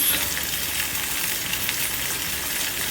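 Eggs sizzle steadily in a hot pan for a cheesy Turkish egg dish, the whites just starting to set; a dense, even frying hiss holds at close range throughout with no talking over it.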